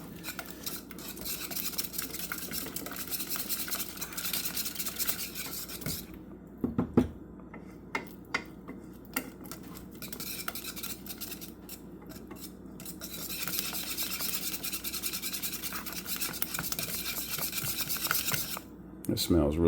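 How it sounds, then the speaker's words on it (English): Lemon tart filling whisked in a pot until thick, a continuous close scraping and clicking of the whisk with brief clinks and pauses. "Whisk it until it gets really thick."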